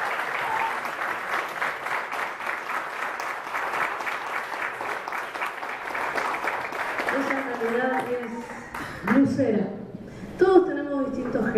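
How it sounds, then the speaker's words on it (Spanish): Strong audience applause at a municipal harp orchestra concert, dense, steady clapping that fades under someone speaking toward the end. "para quien le pido un fuerte aplauso"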